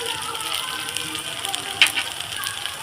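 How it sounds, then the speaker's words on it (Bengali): Kashmiri chilli powder and turmeric sizzling in hot oil in a pan for a small-fish curry, a soft continuous crackle and hiss with a brief sharp pop near the end. "দিয়ে আবার আমি মশলাটাকে কষিয়ে নেব।"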